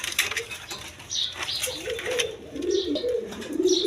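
At a busy pigeon market, many pigeons, including Lahori birds, coo in low rolling bursts close by, overlapping one another, with bird chirps and occasional wing flaps mixed in.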